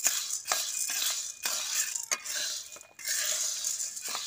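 Leftover cooked rice frying in a pan in a village kitchen, with close metal spoon scrapes and clinks against the pan repeating over a steady background hiss.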